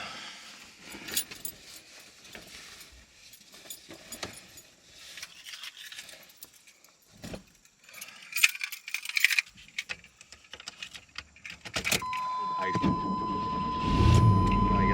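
A bunch of keys jangles and clinks in scattered bursts close by inside a camper van, followed by a car engine starting and a steady rumble at the end.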